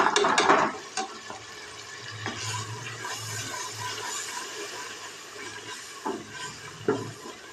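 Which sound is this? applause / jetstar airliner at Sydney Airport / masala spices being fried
masala spices being fried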